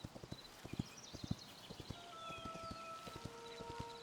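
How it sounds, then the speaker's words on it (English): Undead horse in the game Hytale trotting with steady clip-clopping hooves, a brisk rhythmic patter of close hoofbeats, with a faint whinny and light tonal game sounds drifting in over the second half. "Undead horse, we need to escape post haste."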